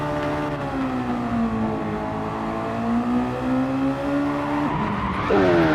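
A Mazda MX-5 race car loses its rear end and spins on track, engine note sweeping and revving under a sustained tire squeal that rises sharply near the end, loud and close.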